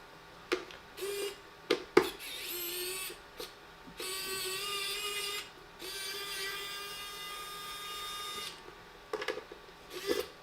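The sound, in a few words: electric screwdriver opening a Mac Mini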